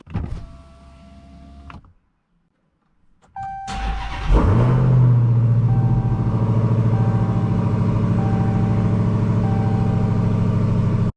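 A car with a loud aftermarket exhaust: a brief idle, a pause, then a cold start that settles into a deep, strong, steady idle rumble, close and loud throughout.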